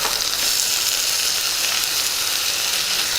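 Cleaned green peas dropped into a hot pan with oil and curry leaves, giving a loud, close, continuous hissing sizzle with no pauses or talk.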